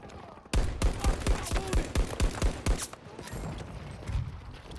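Rifle gunfire in Battlefield 2042: about a dozen sharp, evenly spaced single shots ring out close and loud in steady rhythm, then give way to quieter background rumble and distant combat noise.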